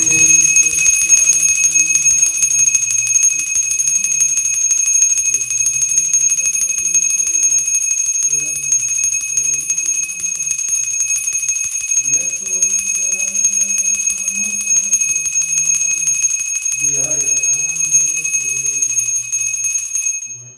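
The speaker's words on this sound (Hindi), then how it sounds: "तो बस घंटी बजाकर आपको आरती करनी है।" A hand bell rings continuously during Hindu aarti worship at Navratri, bright sustained metallic tones, a loud shimmering ring that persists from start to finish with faint chanting-like tones underneath.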